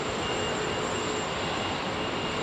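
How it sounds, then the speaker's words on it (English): An Airbus A380 taxiing at London Heathrow Airport gives off a dense, steady broadband roar with a faint high whine, loud and continuous, with no voices. "A380, ladies and gentlemen."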